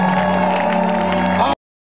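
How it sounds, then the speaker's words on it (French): A church congregation at an open-air Christian gathering cheers and applauds for people coming forward, a steady wash of clapping and joyful shouting with a sustained organ-like tone underneath, ending abruptly after about a second and a half. "acclame, pousse des cris de joie pour ceux qui s'avancent"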